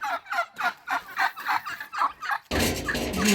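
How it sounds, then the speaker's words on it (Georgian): Turkeys gobble repeatedly in quick rhythmic bursts, fairly close, then a broader noisy rush cuts in near the end. "ნახეთ ჩვენ ინდაურები როგორ გვეგებებიან."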